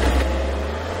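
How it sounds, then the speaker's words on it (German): Engine of a 2016 smart Brabus fortwo at full throttle on a launch-control start, a close, low droning roar that is loudest at first and eases slightly over one brief second, no voices. "Gang rein, Fuß auf die Bremse, Vollgas und los."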